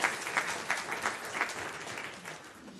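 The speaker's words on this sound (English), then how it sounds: "let's clap for that" A congregation at a Unitarian Universalist service applauds: a short burst of steady hand clapping from many people in a room, fading slightly toward the end.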